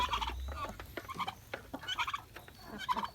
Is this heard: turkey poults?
yes